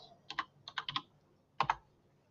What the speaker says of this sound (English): We're going to type in our keywords